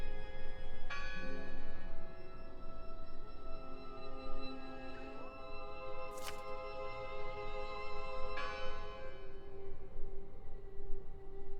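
A church bell in the 1920s Norway video game Draugen tolls in slow, resonant strokes with long ringing decay, set against a steady ambient background, with a brief bright chime midway and no speech.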